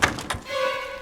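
A door opens in the survival horror game Resident Evil 7, with a couple of dull wooden thunks and knocks followed by a low creaking tone that trails off, close and moderately loud.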